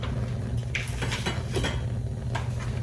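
A cooking pan clatters and scrapes on the stove as avocado oil goes in, several close metallic knocks and clinks over a low kitchen hum, with no voices.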